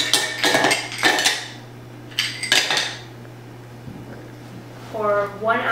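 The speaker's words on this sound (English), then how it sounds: "you can pour your ice in." Ice is poured into a cocktail shaker holding muddled lime wedges and a splash of rum, giving a few loud, close bursts of clattering, clinking cubes with pauses between them. A person speaks briefly near the end.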